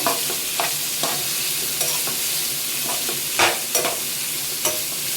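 Steady sizzling and crackling of onions frying in a pan, with occasional stirring scrapes and clinks, loud and close.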